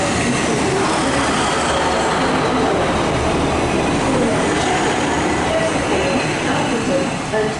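A Northern class 152 diesel unit pulls out of Stockport on its way to Chester, a loud, steady rumble of engine and rolling wheels that fills the whole stretch with faint rail squeal on top.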